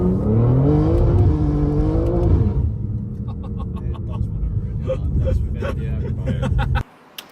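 A tuned BMW G87 M2 with a Stage 2 package making 710 BHP roars loudly and close as it accelerates, the engine note climbing through revs before settling into a steady rumble, then cutting off abruptly near the end; voices murmur beneath it.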